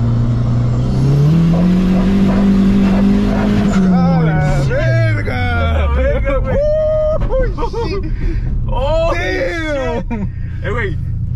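A car engine revs hard through a third-gear pull from 3,000 to 6,000 RPM, a loud, close, rising drone that drops away as a shift comes, then gives way to excited voices shouting and talking over the engine.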